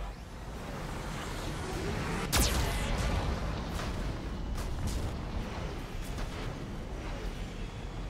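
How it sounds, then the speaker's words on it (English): A Geth cannon fires in the video game Mass Effect 2: one sharp, loud blast, then a rumbling, surf-like roar that gradually fades, with no talking. "Warning, the VI infection has assumed control of the Geth cannon."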